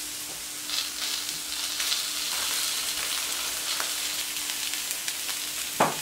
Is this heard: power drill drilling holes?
no